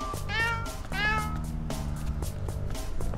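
Two drawn-out cat meows from a kitten gun weapon sound one after another over busy video game effects in Adventure Time: Explore the Dungeon Because I DON'T KNOW, followed by rhythmic thumping game sounds.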